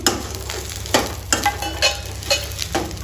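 Okra dropped into hot oil for bhindi fry, a steady sizzle with repeated stirring scrapes and crackles throughout, close and fairly loud, no voices.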